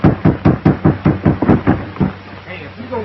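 A fist raps on a wooden door in a 1930s Western, eight or nine steady, loud knocks in a quick even rhythm, then a pause as a voice begins.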